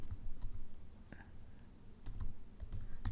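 Quiet, irregular clicks of keys on a computer keyboard as a short project name is typed, a few light taps spread across a few seconds with soft room noise between them.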